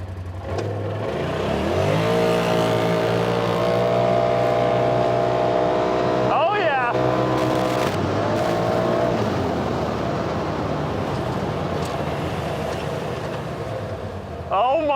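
A Polaris RZR off-road side-by-side in four-wheel drive and high gear accelerates with a loud, rising engine drone that climbs and holds, close by, with brief voices breaking in over it.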